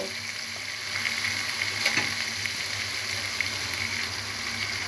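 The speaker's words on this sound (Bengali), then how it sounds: "এবার আমি সামান্য পরিমাণ পানি অ্যাড করে দিব" Turmeric and chili powder masala sizzling and frying in a pan as a little water is poured in, a steady crackling hiss with a brief louder burst from the splash, close up and without talk.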